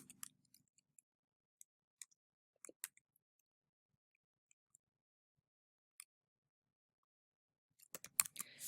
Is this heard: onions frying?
no